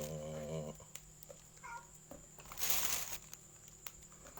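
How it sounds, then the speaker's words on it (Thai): A cat meows once or twice near the start, moderately close, followed by faint rustling and crinkling against a quiet outdoor backdrop. "แมว"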